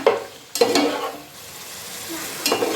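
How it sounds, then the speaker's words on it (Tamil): Biryani ingredients with masala paste are sautéed in a pan, giving a steady soft sizzle broken by a few louder scraping stirs, close by and with no talk. "ஒரு 5 நிமிஷம் போல் அப்படியே வதக்கிக்கோங்க."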